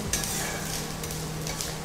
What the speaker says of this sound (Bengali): পেঁয়াজের পর আমরা রসুন কুচনো দেবো